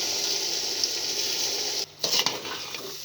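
Rice fries in hot oil in a pan for chicken biryani: a loud, continuous close sizzle that drops out briefly and returns with a few scraping stirs.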